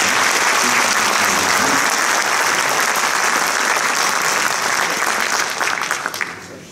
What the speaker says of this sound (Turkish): O güzel gençler için güzel bir alkışla başlayalım.